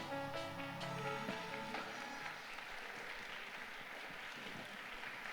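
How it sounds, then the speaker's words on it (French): An audience at a public debate event applauds, a faint, steady patter of clapping under some tonal sound early on. "Il n'est pas interdit d'applaudir."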